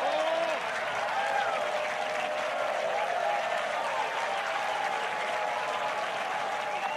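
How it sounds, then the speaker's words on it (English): A golf gallery at the Genesis Invitational 2024, first round, applauds Rory McIlroy's birdie putt with sustained, dense clapping from a sizeable crowd. It runs steadily for the whole stretch, a little distant, with a commentator's voice faintly under it. "Now the gallery can cheer."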